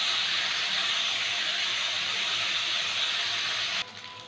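Salted cauliflower pieces fry in a pan with a strong, steady, close hiss that runs evenly, then drops away abruptly near the end.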